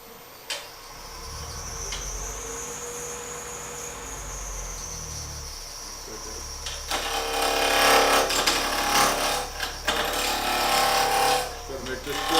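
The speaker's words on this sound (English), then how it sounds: "So rough it out with a bowl gouge, or excuse me, a spindle gouge" A spindle roughing gouge cuts a small turned wooden top on a lathe: a steady machine whine first, then loud, rough, continuous scraping bursts from about halfway on, with a person talking.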